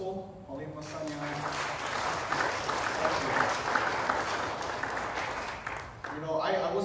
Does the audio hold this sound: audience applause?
yes